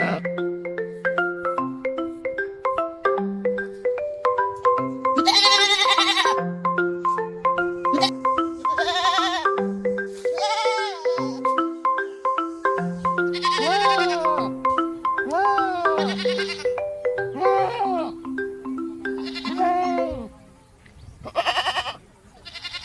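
Goats bleat repeatedly over a bright, bouncy children's melody with chiming notes. Several wavering, nasal calls rise above the tune, some close together, before the music fades out at the end.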